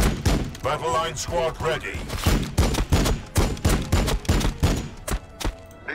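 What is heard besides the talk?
gunfire from the video game Warhammer 40k Battle Sector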